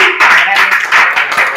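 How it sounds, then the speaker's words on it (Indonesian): Loud, close clapping from an audience at a robotics team event, short and uneven with distinct bursts, heard over talking voices. "Wah, tepuk tangan dong."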